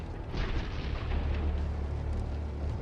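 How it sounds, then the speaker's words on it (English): Ammunition cooking off inside a burning tank struck by a kamikaze drone, a continuous rumbling roar of bursts and crackles, loud and dense without pause. "when the fire reaches the ammunition, we see bright sparks from the explosion"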